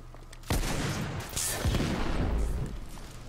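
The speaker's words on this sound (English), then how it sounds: "I'm shooting." Sustained gunfire from The Order: 1886, a dense burst of shots starting abruptly and continuing loud and close through the whole stretch, with heavy low booms mixed into the rattle.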